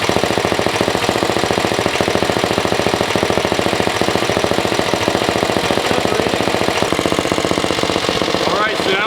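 A turbocharged Stage 5 Predator 212 go-kart engine held under load against the brake, giving a loud, rapid, steady staccato pounding that barely varies, with the noise holding up close throughout.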